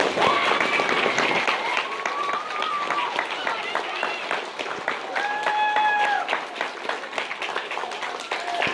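Applause from the audience after a Cinderella play at Wiley High School, dense sustained clapping with cheers and whoops rising above it, some voices calling out.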